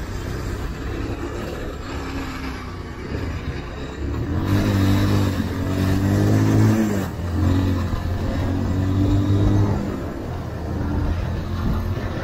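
A car speeds along a straight road at night, its engine giving a steady, close roar that swells as revs climb, with road and wind noise underneath.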